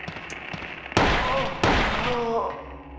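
Two loud, sharp gunshots fired at a monster in Silent Hill 1, spaced well apart over a low ambient hum, each with a brief ringing decay.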